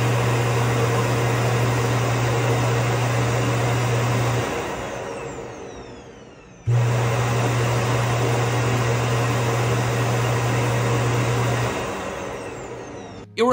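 A Narwal Freo X Ultra robot vacuum's base station runs its dust compression cycle with a steady mechanical whir and low hum. It runs for several seconds, winds down, pauses briefly, then starts again at full strength.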